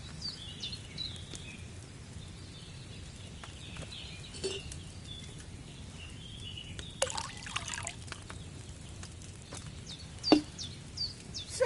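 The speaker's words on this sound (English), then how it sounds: "you have to pour the right base into the cauldron" Wine poured from a pitcher into an alchemy cauldron in Kingdom Come: Deliverance 2, a faint, steady trickling stream over low background hum, broken by occasional soft clinks and taps, with no talking.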